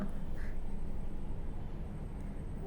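A duckling quacks a few times at close range over a steady low background hum, with no voices.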